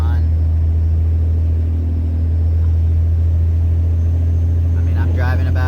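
Constant low rumble of Toyo AT3 all-terrain tires on the road at about 60 mph, heard from inside the vehicle, steady and fairly quiet, with someone talking over it.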